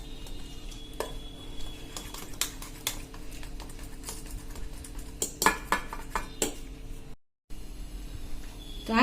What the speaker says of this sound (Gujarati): અને એને એકદમ આપણે આ રીતે મિક્સ કરીને બેટર આપણું એકદમ ફ્લફી થાય એવું તૈયાર કરી લેશું।